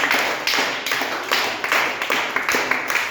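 Quiz audience clapping for a team's correct answer, a dense burst of many hands with repeated sharp slaps throughout, fairly close and loud, no talk over it.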